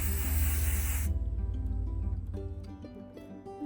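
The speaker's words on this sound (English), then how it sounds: "So I'm just gonna go ahead and spray paint this the candy apple red color." A spray can lays down candy apple red paint in a single steady hiss lasting about a second. Then it cuts off, leaving only a quiet tonal background hum.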